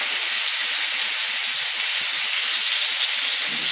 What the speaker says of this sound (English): I just take it, place it in there, get a nice sear going